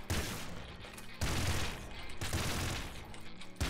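Rapid automatic gunfire from a weapon in the video game Nuclear Throne, a dense continuous rattle of shots in loud bursts with brief gaps, with no talking.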